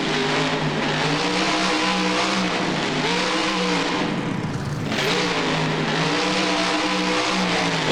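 A monster truck engine in the BeamNG driving game revs hard and steadily at an NRG Stadium freestyle run, pitch rising and falling through gear changes, with one deep dip before climbing again, loud and close.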